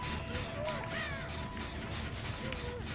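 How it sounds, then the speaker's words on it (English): A crow caws in the horror video game Dead by Daylight, a few harsh calls set against a steady, dense ambient game soundscape. "Oh, it was a crow."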